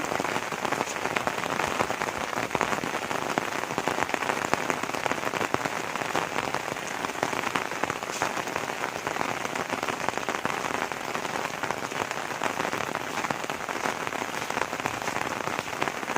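Steady rain falls on a cold first day of the rainy season, a dense, even hiss of drops on surfaces that holds without a break throughout, with no voices.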